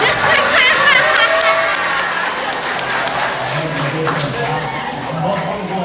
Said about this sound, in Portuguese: As palmas de novo